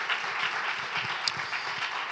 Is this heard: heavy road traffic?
no